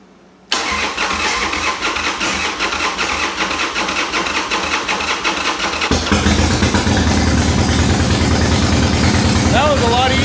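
A motorcycle engine cranks and fires up, then settles into a loud, steady idle close by in a garage, rumbling continuously with a slight shift in tone partway through.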